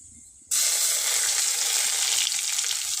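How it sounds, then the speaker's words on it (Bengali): Crushed garlic and black mustard seeds are dropped into hot oil: a brief quiet gives way to a sudden, loud, steady sizzle and frying hiss that carries on close up. "ফেটানো রসুন দিয়ে দেবো।"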